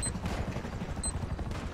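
Gunfire in GTA V: rapid bursts of game shots crackle in quick succession, moderately loud, with a busy mix of background game noise.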